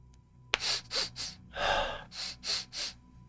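A narrator's voice imitates a goblin sniffing around, giving a sharp intake followed by a series of quick, close breathy snuffs and a longer snort-like inhale, all near and fairly loud with no talking.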